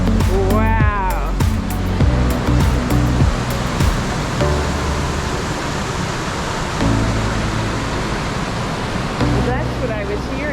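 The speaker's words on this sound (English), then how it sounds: "look at that waterfall" A waterfall near Silverton, Oregon pours down in a steady, loud broadband rush that fills the scene, with a person's voice speaking over the roar at the start and end.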